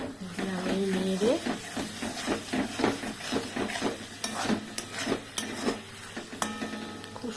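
Duck egg malai curry is stirred in a pan on a gas stove, a spoon scraping in repeated strokes over a soft sizzle, while a voice talks over it.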